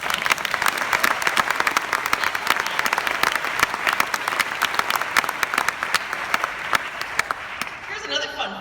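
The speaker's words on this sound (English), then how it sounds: "that deserves applause" An audience at a lifetime achievement awards ceremony breaks into applause, many claps forming a loud, lively patter for several seconds before fading out at the close.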